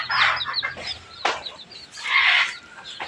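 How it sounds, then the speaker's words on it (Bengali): Local free-range hens on a Bangladeshi farm cluck and squawk close by in several loud, uneven bursts separated by short pauses. "দেশি মুরগি"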